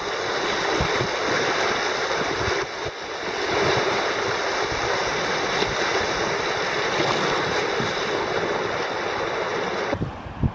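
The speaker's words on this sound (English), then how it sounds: "Kayaking Salt River." Rushing river water roars steadily and loudly around a kayak on the Upper Salt River, a continuous broadband wash of rapids with brief splashes, close to the microphone, cutting off near the end.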